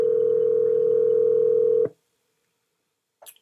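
A steady telephone dial tone drones loudly and evenly for almost two seconds before cutting off into silence, followed by a brief faint click near the end, as a call is being placed.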